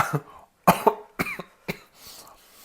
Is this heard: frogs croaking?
no